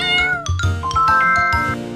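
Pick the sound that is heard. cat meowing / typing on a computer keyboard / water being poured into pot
cat meowing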